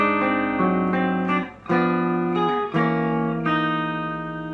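A distorted electric guitar plays the verse riff from a song: a sequence of sustained, ringing chords with a few quick picked transitions, loud and up close with no voices.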